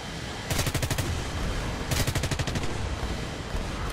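Cannon fire from a J29 Tunnan jet in War Thunder, two short rapid bursts of rhythmic shots heard over a steady roar of jet engine noise.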